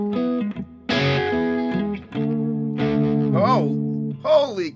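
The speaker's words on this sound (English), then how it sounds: "That is the sound of a string about to break." Electric guitar with a Floyd Rose tremolo, a string strained to near breaking, giving distorted notes that bend and warble upward in several sustained bursts, loud and close with no talk.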